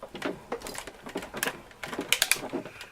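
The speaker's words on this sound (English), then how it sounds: "you turn your knob, and that loud cracking noise is okay." A Cuttlebug die-cutting machine cracks loudly as its knob is turned, giving a close, uneven run of sharp snapping clicks and creaks.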